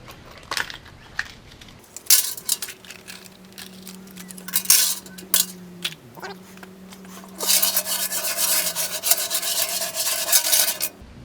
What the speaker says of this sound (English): I'm going to throw some bolts and washers in there and swish it around some to break up the big pieces